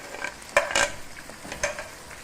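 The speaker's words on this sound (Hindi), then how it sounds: "2 मिनट के लिए इसको फ्राई करूँगी ताकि टमाटर जो है थोड़े नरम हो जाए।" Chicken frying with chopped tomatoes, salt and lemon juice in a pan for biryani, a low sizzle broken by a few quick utensil scrapes and clinks against the pan, no talking.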